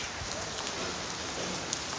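Rain falls steadily during a wet outing with tea and a motorbike, a soft, even hiss of drops that stays faint and unbroken, with no voices.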